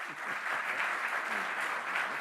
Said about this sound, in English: So he needs one round of applause.